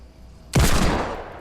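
A single heavy hand cannon shot, a Desert Eagle-style pistol in Fortnite, cracks out loud and close after a quiet moment, followed by a booming tail that slowly fades.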